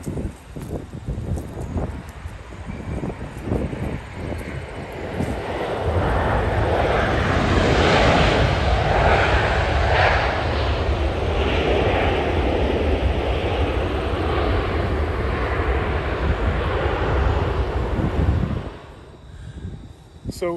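A low-flying airplane passes over a cemetery near O'Hare International Airport, its roar swelling loud and holding for over ten seconds before dropping off, with wind buffeting the microphone.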